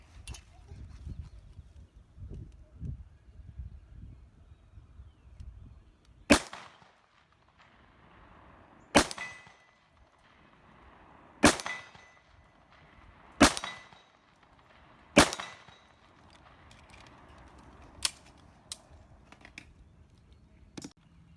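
Five sharp .45 Super pistol shots with 255-grain hard-cast round-nose flat-point loads ring out outdoors at a 15-yard target, spaced a few seconds apart, with quieter handling clatter and faint background noise between them.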